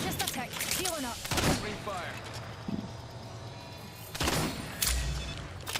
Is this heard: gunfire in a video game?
yes